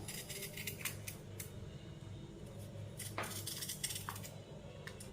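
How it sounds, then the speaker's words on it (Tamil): A medium carrot being scraped with a peeler in a home kitchen, giving a steady run of light, gritty scraping strokes with small clinks of metal, close and fairly quiet, no voices. "இந்த கேரட்டை வந்து தோலை நல்லா சீவிக்கிடுவோம்."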